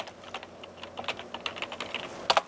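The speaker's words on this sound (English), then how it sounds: "if you type in the word archaeometry" Keys clatter on a computer keyboard, a quick run of close, light taps that builds to a sharper burst of keystrokes at the end, with no voices.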